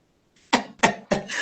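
Three sharp, close coughs from a person during a virtual town hall, in quick succession with short gaps, each one loud and abrupt against an otherwise quiet background.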